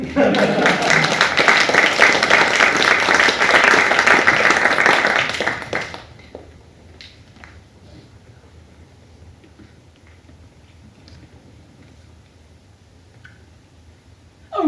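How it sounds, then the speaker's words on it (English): Audience applause follows a spoken invitation to clap, loud and dense for about six seconds before fading away to near silence with only scattered faint sounds. "You may applaud if you like."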